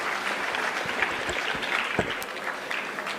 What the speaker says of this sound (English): Can we have a big round of applause for them?